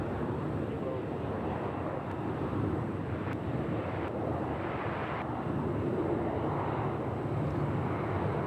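A Delta airliner approaches runway 31 at Nashville International Airport, a steady broad engine roar in the distance blended with wind noise and holding at a constant level throughout.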